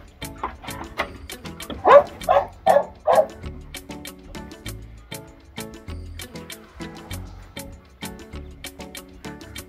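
Seven-week-old pit bull puppies yipping and barking in short high bursts, loudest in a quick cluster of several barks, then softer whimpers and scattered yips trailing off nearby.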